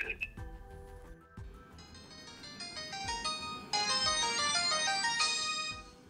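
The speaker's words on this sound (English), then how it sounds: "I just got woken up by my pay-as-you-go phone ringing." A pay-as-you-go mobile phone rings with a bright, repeating electronic melody that grows fuller and louder over several seconds, close by, with no talking over it.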